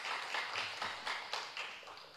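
An audience at a Thursday church gathering claps, a soft, brief patter of many hands with a few sharper individual claps, fading slightly toward the end.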